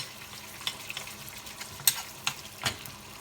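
Eggs fry in hot coconut oil over low heat, a soft crackling sizzle with scattered pops and occasional spatters, fairly quiet and close, without speech.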